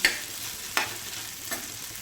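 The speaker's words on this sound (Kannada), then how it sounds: "ಇದನ್ನು ಇನ್ನೊಂದು ಜರ ಚೆಂದಾಗ ಎಣ್ಣೆ ಒಳಗೆ ಬೆರೆಸ್ಬೇಕು" Sabudana is stirred in hot oil in a pan, with soft crackling sizzle and three scraping strokes of the spoon spaced evenly at close range.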